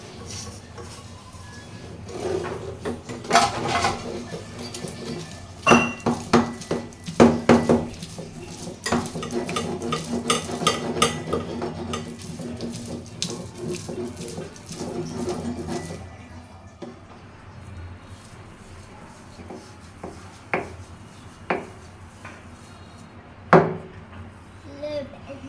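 A mash of peanuts, dried chili, onion and garlic gets mixed by hand in a bowl, giving irregular close taps, knocks and squelchy stirring for a while before quieter, sparser clicks.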